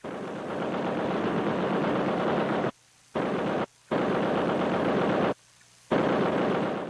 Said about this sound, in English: tracks mounted several weapons, including at least one 50 caliber machine gun, a weapon too heavy to carry on foot.